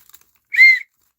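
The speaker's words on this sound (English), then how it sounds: "Yeah, I'm blowing the Hottie Whistle." Someone blows a novelty "Hottie Whistle" from a thrift store. It gives one short, bright, shrill toot of about a third of a second, loud and close, with silence around it.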